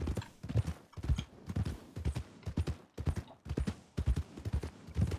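A horse's hooves clip-clop at a steady trotting rhythm in the RedM video game. The hoofbeats repeat evenly and fairly quietly, with no talking over them.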